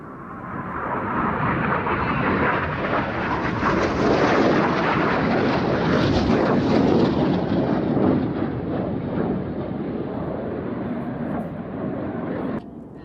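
A jet aerobatic display team flies an opposition barrel roll at an air show, a broad, loud roaring engine rush that swells and holds steadily for about thirteen seconds.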